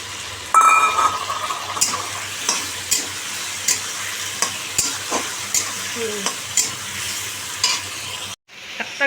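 An egg fries and is stirred in a home kitchen pan, a steady close sizzle broken by repeated scraping and clacking stirs at a regular pace, ending in a brief pause.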